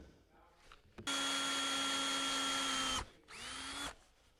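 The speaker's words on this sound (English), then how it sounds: "we're going to start getting our pilot holes in" A cordless battery drill bores pilot holes into wood, running in two bursts at a steady high whine. The first burst lasts about two seconds, then a brief pause comes before a shorter second run. Both are close and loud.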